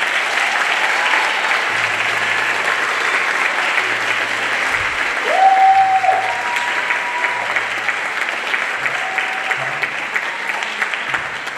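Sustained, full applause from parents and audience at a spring middle school band concert, dense and even throughout, with a brief tonal sound mid-way.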